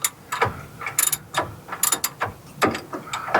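A socket ratchet backs a nut off a bolt under the chassis of a P32 Workhorse motorhome, giving quick bursts of close metallic clicking with short pauses between strokes.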